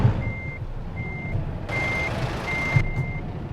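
A reversing truck in American Truck Simulator gives out a steady series of evenly spaced electronic backup beeps, clear over a low engine rumble with a brief hiss partway through.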